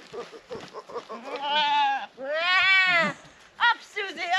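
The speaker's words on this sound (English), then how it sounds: "the goats are loving it so much more than usual" Goats in an enclosure bleat in long quavering calls, several close and loud in succession, with brief rustling between them.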